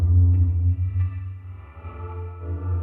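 A synth sample, degraded by Redux and bit-crush effects on a sampler, sustains a loud, buzzy low drone with shifting metallic upper overtones, playing alone without speech.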